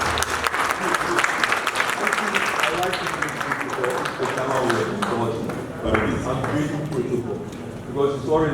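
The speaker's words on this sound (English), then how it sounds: "can you clap for Jamal again?" Lecture-series audience applauding, dense clapping filling the room, with voices mixed in as it gradually thins toward the end.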